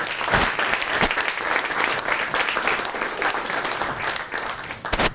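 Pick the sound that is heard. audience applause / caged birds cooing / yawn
audience applause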